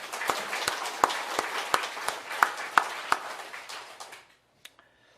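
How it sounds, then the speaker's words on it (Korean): A church congregation claps for the choir during a service, a modest round of distinct claps in a loose rhythm that thins out and stops after about four seconds, followed by near silence. "그 큰 사랑 우리 박수 한번 해줍시다."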